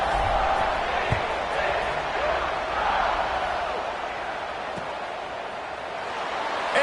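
A dense stadium crowd roars steadily before a Clemson football kickoff, a broad sustained wash of noise with occasional thumps, close and loud throughout.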